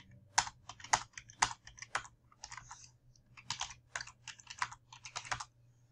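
Numbers being typed on a computer keyboard into an Excel spreadsheet: sharp, close key clicks in short irregular bursts separated by brief pauses, with no voices.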